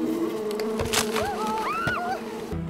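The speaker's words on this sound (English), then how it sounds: "There's a beehive up here." Insects buzzing near a beehive outdoors, a steady close drone with a few rising and falling whines as bees pass by, over faint background noise.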